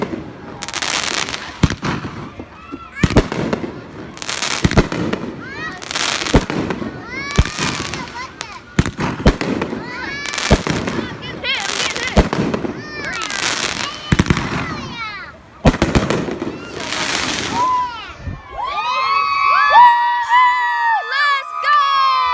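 Large fireworks burst again and again in sharp, booming volleys during a daytime event in Florida, with a crowd shouting and whistling close by and people talking over the blasts.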